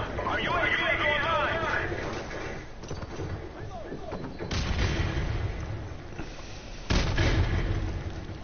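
Call of Duty Modern Warfare Remastered multiplayer plays with booming grenade explosions and gunfire bursts, with strong blasts near the middle and the end, while a player talks over the game audio.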